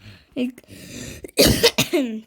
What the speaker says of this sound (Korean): 기침하고요